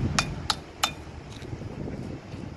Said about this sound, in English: this technician is driving a nail through this cable so that our test probe can be attached on it